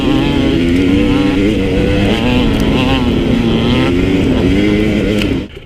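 A Husqvarna TE250i fuel-injected two-stroke dirt bike engine revs hard and steady at high pitch, loud and close, its whine holding for several seconds before cutting off.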